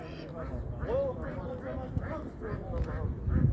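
Poultry and ducks at the Ganja bird market, repeated nasal quacks in a steady rhythm against crowd noise and voices.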